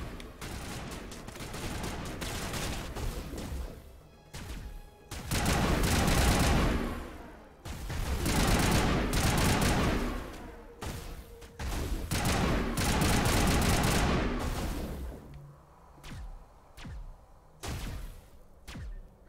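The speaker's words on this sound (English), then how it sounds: "I'm getting shot at." Rapid bursts of gunfire in the video game Mass Effect, heavy clustered volleys that swell loud and dense, then break into shorter spaced shots and pauses.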